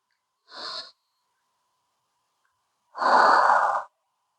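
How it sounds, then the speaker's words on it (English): Slow, deep breathing during a cooldown stretch after a HIIT workout: a short close inhale, a pause, then a longer, heavier breath out, alone and clear. "deep breaths and slow breaths out"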